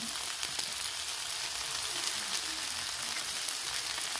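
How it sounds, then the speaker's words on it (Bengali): Garlic paste and prawns frying in a pan for a Bengali drumstick, potato and prawn curry, giving a steady dense sizzle with light crackle throughout, close and without talk. "রসুন বাটাটা দিয়ে ভালো করে ভেজে নেবো"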